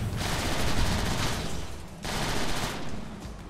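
Sustained gunfire blasts from the video game Transformers: War for Cybertron, loud and dense, with a short dip near the middle before the barrage resumes and tails off.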